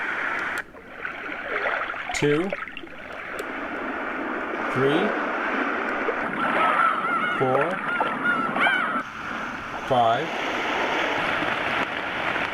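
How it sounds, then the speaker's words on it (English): Ocean waves played on a PICTEK white noise machine, a steady broadband wash of surf that runs throughout, close and fairly loud, while a voice counts over it. "These would be ocean waves"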